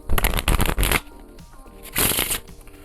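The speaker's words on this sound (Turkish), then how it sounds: "Ancak birkaç kere karıştırarak hemen oyunuma geçmek istiyorum ve şu şekilde karıştırayım." Playing cards being shuffled by hand during a card trick, two quick riffling bursts close up, with a brief pause between them.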